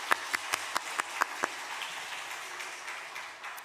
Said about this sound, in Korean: 우리 부활하신 주님 앞에 영광의 박수 올려드리도록 하겠습니다